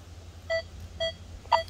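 A Nokta Legend metal detector with an LG30 coil, swept over a bullet buried in park ground, gives three short, clean electronic beeps evenly spaced about half a second apart, with no talk over them.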